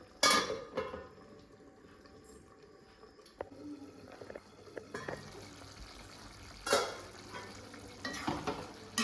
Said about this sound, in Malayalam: നന്നായിട്ട് തിളച്ച് വന്നിട്ടുണ്ട് ഒന്ന് ഇളക്കി കൊടുക്കാം കേട്ടോ